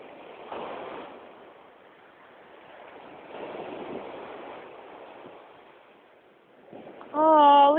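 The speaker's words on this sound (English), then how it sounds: "Oh, look at all these waves." Ocean waves along the New Jersey shore, soft surges of surf washing in and receding at a distance, ending with a sudden loud voice close to the microphone.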